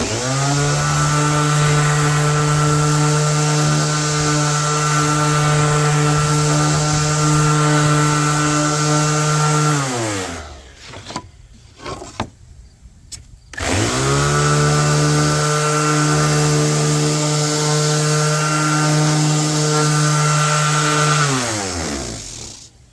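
A power sander works the bottom of a wooden shelf with a loud, steady motor whine, running in two long passes separated by a brief pause of a few seconds; no one speaks.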